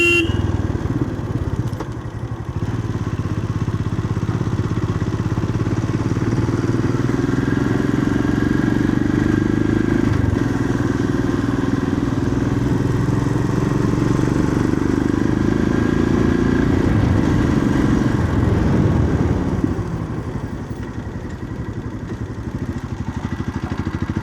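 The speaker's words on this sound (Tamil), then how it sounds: "செயின் பேக்கெட் கரகரகரகன்னு சவுண்டு வருது." Motorcycle chain and sprocket grinding and rattling while riding downhill on a road from Tenkasi toward Achankovil, Kerala, a steady loud engine drone with continuous mechanical clatter beneath it, no talk.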